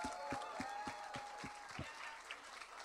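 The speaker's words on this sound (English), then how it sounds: "Round of applause." A small audience claps at an interview, a short series of distinct, evenly spaced claps that trail off, with faint chatter underneath.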